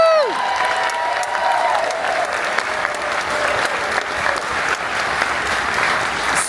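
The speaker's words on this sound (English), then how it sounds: "Please clap for them." Steady applause from a conference crowd at Six Flags, a dense wash of clapping that holds at an even level throughout, with no one speaking over it.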